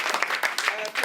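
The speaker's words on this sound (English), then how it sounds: "Give Marcus a round of applause." Brief audience applause for a volunteer called up on stage during a hypnosis lecture, a burst of clapping lasting about a second.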